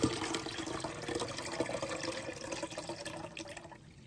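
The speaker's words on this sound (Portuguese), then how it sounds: "Agora nós vamos coar essa mistura para poder tirar aí esses pedaços de alho." A garlic and water mixture strained through a fine sieve into an empty container gives a continuous trickling, splashing pour that fades slightly near the end, with no talk.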